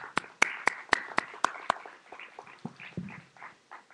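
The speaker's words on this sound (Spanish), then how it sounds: "Aplausos." Scattered clapping from a small conference audience after a talk on copyright, a handful of sharp claps that thin out over a few seconds, fairly close and moderately loud.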